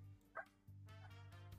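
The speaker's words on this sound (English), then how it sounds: "Sorry about the dog." A dog gives a couple of quick, faint barks behind a steady low droning hum.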